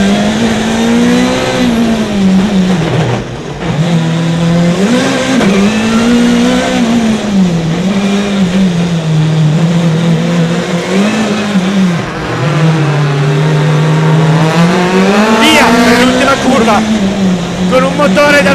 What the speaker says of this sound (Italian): Con un motore davvero impressionante, sono quasi 400 i cavalli di una WRC Plus.